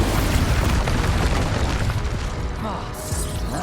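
An Expulso explosion spell in Hogwarts Legacy erupts as a heavy booming blast that fills the clip with a rumbling roar, fading slightly toward the end.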